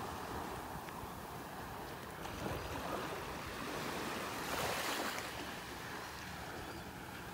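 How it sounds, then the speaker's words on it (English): Small, gentle waves washing onto the beach at North Naples, Florida: a soft continuous wash with one slightly louder swell breaking partway through, calm and fairly quiet. "Little tiny waves here"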